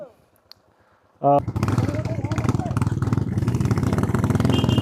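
Motorcycle engines fire up at the start of a group ride from a homestay in the hills, a loud sudden start after near silence, settling into a throbbing, pulsing idle under brief talk.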